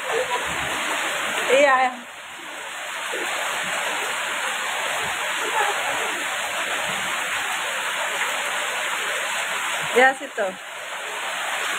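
Light rain gives a continuous even hiss close by, with a couple of brief louder bursts, while people speak over it now and then.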